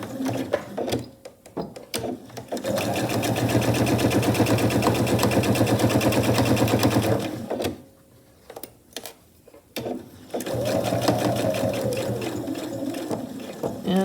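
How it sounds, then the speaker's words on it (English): A sewing machine stitches a tote bag seam with a regular presser foot, running in a steady rapid whir for about five seconds, pausing with brief clicks, then resuming for a second run with back stitching, close and loud. "And I'll sew the seam right down here"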